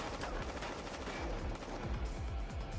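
Rapid video game gunfire rattles throughout in dense repeated bursts, loud and close, with an automatic weapon firing steadily and almost no voice present.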